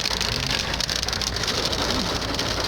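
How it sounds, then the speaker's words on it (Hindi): Hail pelts down hard and steadily on the road to Naran, heard from inside a vehicle as a dense, continuous drumming patter with a low engine rumble beneath. "बर्फ ये देख ओले गिर रहे हैं।"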